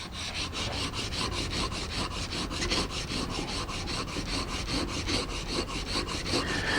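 Steady rhythmic rasping of a Japanese chisel back being rubbed flat on sandpaper, with regular back-and-forth strokes repeating about twice a second, close up and alone with no talking.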